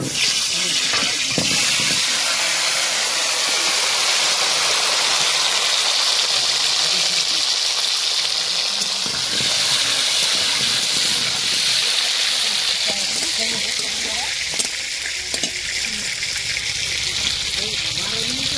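Potatoes sizzle in hot oil in a heated wok as they go in for a chicken and cabbage curry: a loud, continuous broadband hiss that holds steady throughout.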